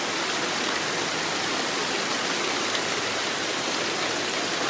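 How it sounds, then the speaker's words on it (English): Heavy rain from a storm with near tropical-storm-force wind gusts pours down in a steady, dense roar, loud and continuous throughout, with no voices. "Raining super hard."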